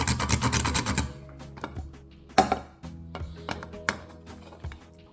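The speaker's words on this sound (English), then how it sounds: "With a grater, you can grate to get the powder." Dried licorice root scraped on a grater gives a burst of dense, dry rasping strokes, then quieter scattered scrapes and taps, close and alone.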